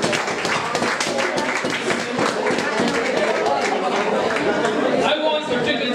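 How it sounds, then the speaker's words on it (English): Audience applause at a 2017 road crawl event, dense steady clapping from a crowd that holds for the full stretch with chatter mixed in. "I want you to give yourselves a round of applause because you deserve it"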